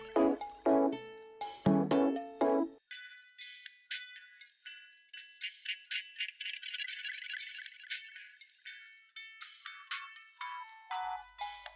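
Jangly metallic tones pass through the z-plane Peel filter plugin's EQ, which cuts away the low end after a few seconds, leaving thin, bright, tinny rattling that shifts as the filter sweeps.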